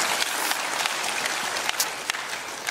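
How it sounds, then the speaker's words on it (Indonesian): Congregation clapping at a church service, a steady dense wash of many hands applauding together throughout, with no voices standing out above it. "Berikan tepuk tangan kita untuk Tuhan kita."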